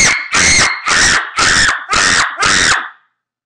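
A person imitates a monkey scream with six loud, evenly spaced shrieks in quick rhythm, each about half a second, close and harsh, then silence.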